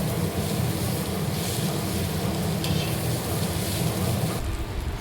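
Spice mixture for a tisarya (clam) recipe roasting and being stirred in a pan: a steady, dense sizzle with continuous scraping for most of the clip, dropping off near the end, with no talking.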